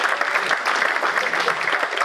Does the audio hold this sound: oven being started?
no